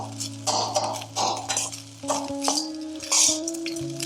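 A spoon stirs lemon rice with lentils in a pan, scraping and clinking unevenly against the metal under a soft sizzle, with a steady low tonal hum running in the background.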